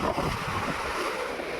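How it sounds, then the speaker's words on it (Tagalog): Ocean waves surge and wash onto a sandy shore, a steady, close, broadband rush of surf with wind buffeting the microphone and no talking. "Kaya lakas ng hampas nung alon dito sa akwan, sa buhangin"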